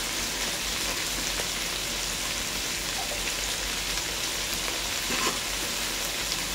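Vegetables salted and frying for street-style egg chowmein crackle in a steady dense sizzle like rainfall, even and unbroken throughout, close up with no talking.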